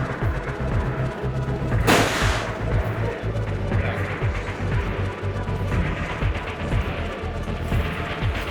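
An AK47 rifle fires a single loud, sharp shot at the Cu Chi Tunnels shooting range in Vietnam, cracking over a constant rumble of outdoor range noise and other distant shooting.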